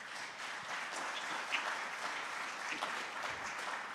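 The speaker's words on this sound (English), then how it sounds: "round of applause" Audience applause at a tech panel event greets the introduction of a startup CEO, a steady, fairly faint wash of many hands clapping that runs throughout without talk.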